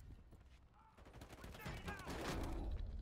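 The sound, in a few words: grenade explosion in a video game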